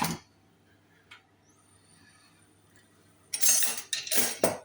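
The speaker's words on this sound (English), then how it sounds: "Spoon will do. Can't be using a whisk in a non-stick pan." A spoon scrapes across the bottom of a non-stick pan after frying cured pork shoulder steak: a faint early clink, then a couple of bursts of loud, close scraping near the end, with no voices.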